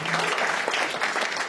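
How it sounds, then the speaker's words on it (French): Applause from a comedy club crowd at a stand-up show in Liège: a short, loud burst of many hands clapping close by, with a hint of crowd noise beneath. "Ah, ouais, ça applaudit, ça."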